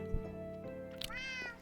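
Minecraft cats meow in a player's base, a couple of short mews with a higher, drawn-out one near the end, over a steady tonal background.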